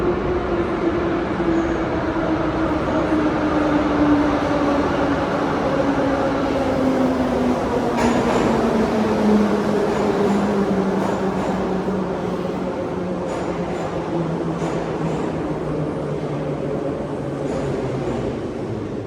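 A Moscow metro train rumbles steadily along the track, a loud continuous roar with a slowly falling motor whine throughout.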